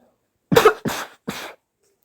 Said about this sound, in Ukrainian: я трошки кашлю, в принципі